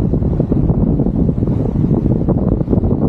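Strong wind gusting across an exposed outdoor lookout, a loud, continuous buffeting roar battering the microphone with no voices.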